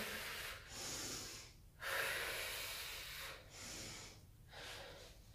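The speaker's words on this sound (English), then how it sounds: "breathing in and breathing out on the way up" Close, steady breathing in and out during a prenatal core exercise for the second trimester, a few long airy breaths in a rhythmic cycle, soft and alone without speech.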